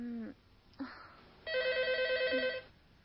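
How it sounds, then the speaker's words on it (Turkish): A telephone rings in a Uyghur film scene, a trilling electronic bell burst lasting about a second after brief voices and a short knock, fairly loud and close. "Telefon."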